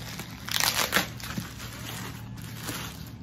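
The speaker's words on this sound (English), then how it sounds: "Okay, so it comes with bubble wrap." Bubble wrap crinkles and rustles as a packaged handbag is unwrapped, close-up crumpling with a few sharper crackles early on and softer handling noise after, no voices.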